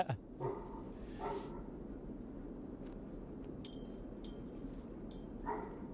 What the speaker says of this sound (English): it sounds like that damn dog Stonewall's alive and well